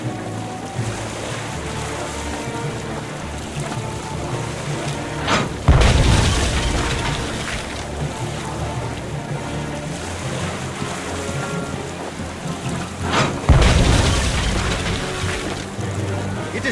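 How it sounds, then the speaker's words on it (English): Cannon fire from the pirate adventure video game Tales of Monkey Island: two loud booming shots several seconds apart, each with a long rumbling tail over steady ocean waves and ship ambience. "It is for me to shoot the cannon"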